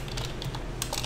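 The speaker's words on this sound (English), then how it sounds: "I'm gonna hit tab to change the folder" Computer keyboard keys pressed while typing, including the tab key, giving a few quick, close plastic clicks over a faint background hum.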